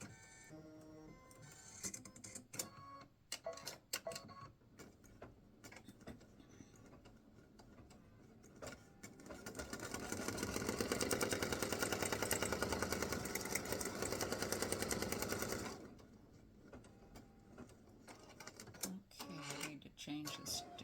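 A home embroidery machine stitching a Father's Day greeting card design: scattered clicks and taps at first, then a steady, loud mechanical whir for several seconds before it stops and the light clicking resumes.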